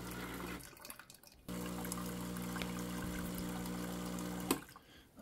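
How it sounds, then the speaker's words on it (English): A Walmart Ultima Cosa semi-automatic espresso machine runs hot water for a double shot: a short pause, then a steady pump hum with flowing water that stops with a click and goes quiet before starting again. "Okay, we can also do a double shot just to kind of get it really working."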